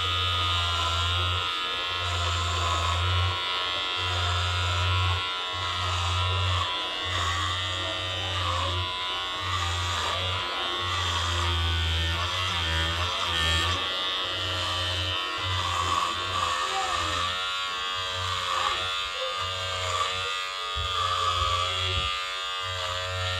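An electric hair clipper's small motor runs continuously up close, a loud steady buzzing hum with brief dips as it is handled, over about twenty-three seconds.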